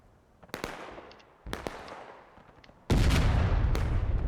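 Cannon fire in a Civil War video game: a few sharp, distant booms with fading tails, then a much louder blast that turns into a sustained, heavy roar.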